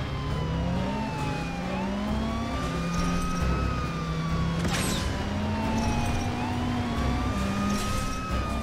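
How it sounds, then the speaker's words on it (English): Wailing police sirens in Transformers: The Game rise and fall repeatedly over a rumbling engine and road noise, loud and continuous, with no talking. "Oh, sirens."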